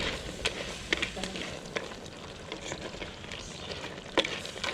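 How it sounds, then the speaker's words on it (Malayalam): A thick Kerala crab curry is stirred in a pan, with a soft sizzle and scattered spoon clicks and scrapes under talking. "അതുകൊണ്ട് ഞാൻ ജസ്റ്റ് ഒന്ന് ഇളക്കി കൊടുക്കുക"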